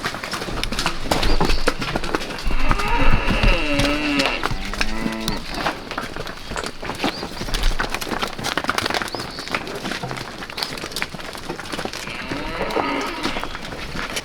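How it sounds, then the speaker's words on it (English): Cattle moo loudly and repeatedly at a feeder bunk among bulls, the drawn-out calls rising over constant shuffling, hoof thuds and jostling livestock noise close by. "There's a cow in here, she'll almost knock me over trying to get feed"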